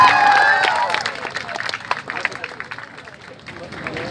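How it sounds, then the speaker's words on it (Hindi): Crowd applause and cheering for student performers and their teacher Rahul Gupta at a GLA University Ninad club performance, starting loud and thinning into scattered claps and murmuring over a few seconds. "जोरदार तालियां मेरे इन सभी स्टूडेंट्स और इनके गुरु जो मेरे भी गुरु हैं राहुल गुप्ता सर के लिए जोरदार तालियां।"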